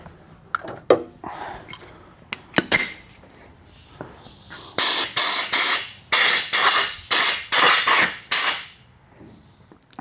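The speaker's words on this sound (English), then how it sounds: "Blow it out with some air." Compressed air hisses out in a series of about eight sharp, loud bursts, each fading quickly, as it blows debris from the engine case of a KX450F dirt bike during a main seal job. Softer clicks and handling noises come first.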